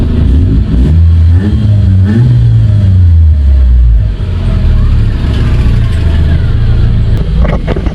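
A Nissan Sentra B14 engine, loud and close, idles and then revs up and back down with a droning low hum that rises and falls in pitch.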